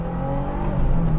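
A 2022 Subaru WRX's 2.4-liter turbocharged boxer engine revs with a steady, loud hum that climbs slightly toward the end, heard close and alone without talk.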